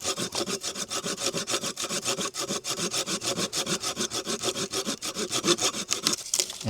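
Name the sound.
Silky Gomboy Kuro hand saw cutting wood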